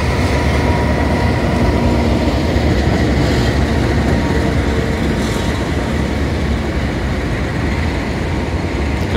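A KRL Toei 6000 commuter train runs through the night, a loud, unbroken rumble of wheels and carriages that stays steady and close throughout.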